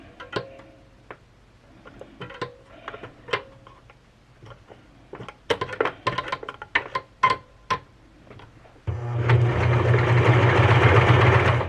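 A Janome HD 1000 heavy-duty sewing machine: scattered clicks and knocks of handling, then the motor starts and runs in a loud, steady whirring drone for the last few seconds.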